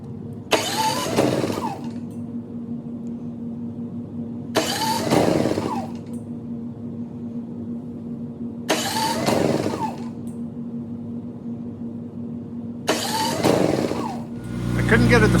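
An engine cranks four separate times in long, rhythmic whirring bursts but never catches, each attempt stopping abruptly, with a steady low hum running in the gaps between tries.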